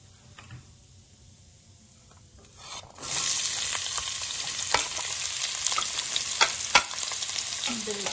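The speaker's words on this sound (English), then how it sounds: "Now we are going to bring in our diced onion." Diced onion tipped into hot oil with black cardamom and star anise in a pan, a quiet start giving way to a loud, steady sizzle with occasional stirring clicks.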